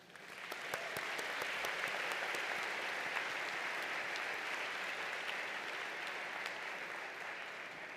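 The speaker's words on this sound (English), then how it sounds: "Please join me in congratulating them with a round of applause" Sustained applause from a large audience at a university nursing and public health graduation ceremony, dense even clapping that swells in quickly and holds steady for several seconds, somewhat distant with no talking.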